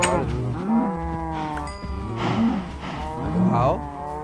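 Minecraft cows give a series of moos, about three distinct bellowing calls spaced a second or so apart, close and clear against a soft continuous game ambience with no talking.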